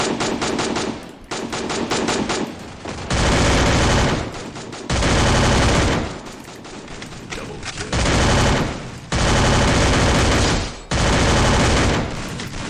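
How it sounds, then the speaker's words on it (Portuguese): Loud automatic gunfire in the Free Fire mobile game, with long sustained bursts broken by short pauses, repeating throughout at close range. "Eu tô atirando"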